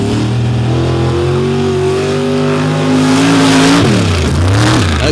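A mud racing vehicle's engine roars loudly and up close on a mud track, its pitch climbing and then dipping and rising again as the throttle is worked, with no talking.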